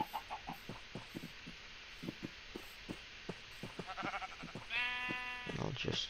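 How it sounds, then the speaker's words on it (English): Sheep bleat in a video game, one wavering, nasal call near the end following a series of soft rhythmic thuds, with someone talking over the sounds. "I can see 3 sheep."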